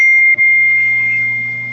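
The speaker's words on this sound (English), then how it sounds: "That's a wake up alarm." A phone wake-up alarm goes off during an online working meeting as a steady, loud, sustained electronic tone with a low hum beneath it, briefly interrupted near the start.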